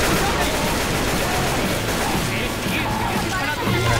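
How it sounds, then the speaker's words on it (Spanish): A rapid, crackling barrage of fireworks bangs and pops in Left 4 Dead 2 rolls on continuously over a dense, noisy concert backdrop with music. "Siguen los fuegos artificiales."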